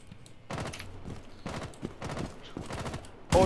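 Bursts of gunfire from the video game Rainbow Six Siege, played on the Bartlett U. map, come in three or four rapid clusters with short gaps between them, followed by a sharp loud blast at the end.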